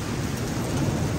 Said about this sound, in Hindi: ये देखें बड़े ज़ोर की बारिश है आज